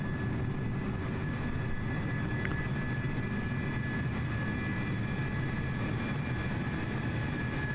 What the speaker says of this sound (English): Jet 2 flight going out of Innsbruck here